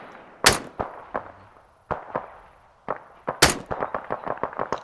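Gunfire during a military operation in a video game, sharp loud cracks ringing out singly at first and then in a quick volley of repeated shots near the end.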